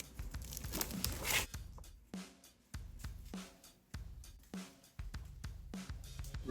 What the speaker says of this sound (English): I take the release paper off the loop side